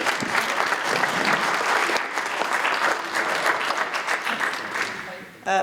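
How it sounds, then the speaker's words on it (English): Conference audience applauding the speakers at the end of an afternoon session, sustained dense clapping from a room of people at moderate level, tapering near the end as a voice returns briefly. "can you all give everyone a big round of applause?"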